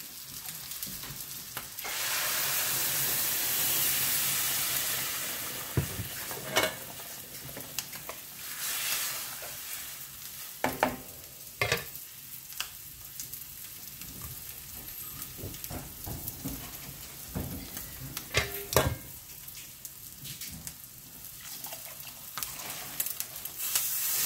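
Broth goes into a pan of vegetable khichuri, raising a loud hissing sizzle at first that settles into quieter bubbling, broken by sharp clinks and scrapes of a spoon stirring against the pot.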